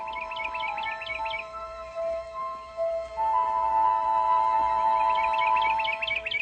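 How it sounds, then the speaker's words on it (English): A small bird chirps in a staged fairy-tale forest scene, with repeated bright trilling tweets over a soft musical background that pause midway, then return. "More slowly, little bird."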